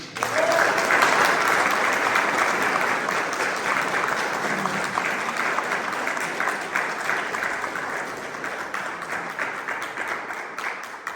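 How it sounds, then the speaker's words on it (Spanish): Sustained audience applause fills a book presentation hall honoring an engineer, dense steady clapping from a large crowd lasting throughout and slowly tapering in strength, with faint voices mixed beneath. "se unan conmigo para tributarle un aplauso al ingeniero Joaquín Salazar"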